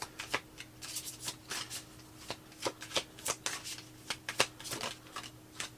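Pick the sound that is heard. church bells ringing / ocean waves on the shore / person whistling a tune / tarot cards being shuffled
tarot cards being shuffled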